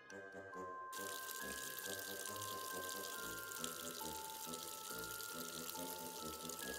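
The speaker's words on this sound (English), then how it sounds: "now use the faucet" A faucet runs in a video game, a steady close stream of water pouring continuously from start to end, with bright game music tones layered over it and no voices.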